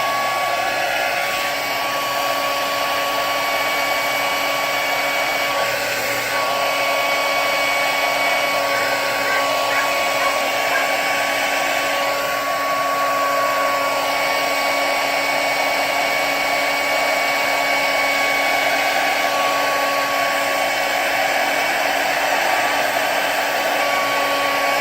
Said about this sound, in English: I'm gonna have to use a blow dryer to heat fix this.